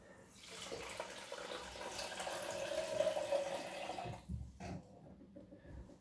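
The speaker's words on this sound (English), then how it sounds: "you put in 400 milliliters of water" Water runs steadily from a tap into a measuring jug for about four seconds, a close continuous rushing pour that cuts off abruptly, followed by faint handling clatter.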